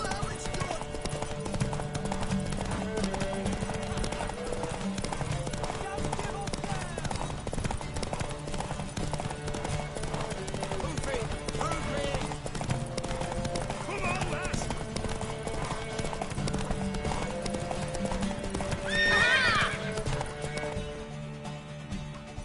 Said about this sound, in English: Vicky, want that horse, don't ya?